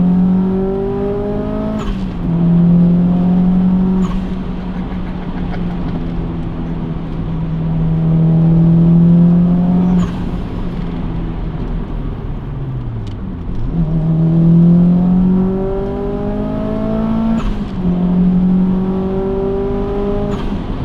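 A Subaru Impreza blobeye engine revs up repeatedly from inside the car, rising in pitch through each gear before dropping at shifts, loud and continuous.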